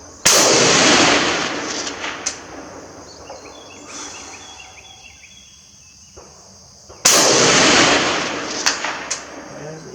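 An Imbel FAL rifle in 5.56 fires two loud, sharp shots at a target outdoors, several seconds apart, each followed by a long rolling echo, with faint insect buzz in between.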